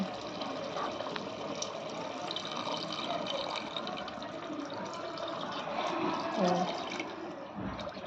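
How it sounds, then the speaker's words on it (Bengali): Water pours into a pot of chicken biryani rice and masala, a continuous gushing, splashing fill that swells slightly near the end, moderately quiet with a faint voice in the background. "এবার পরিমাণ মতো এটাতে জল দিয়ে দিচ্ছে"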